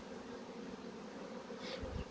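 Honey bees buzzing steadily at an open beehive during hive work, a dense continuous drone close by with no talking.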